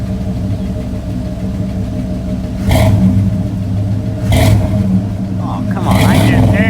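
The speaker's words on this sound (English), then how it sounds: "You got to do a hood rev." A truck with a newly fitted aftermarket exhaust revs from under the hood, its loud engine rumble swelling in three sharp bursts over a steady idle, with people talking nearby.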